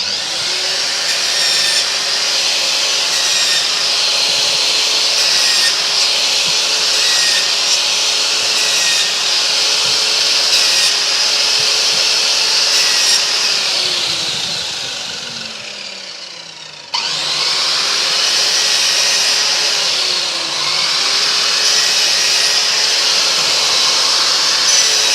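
A Hyundai forward-facing mitre saw cuts wood with dust extraction running, a loud steady high-pitched whine lasting throughout, with the motor briefly winding down and starting up again near the middle.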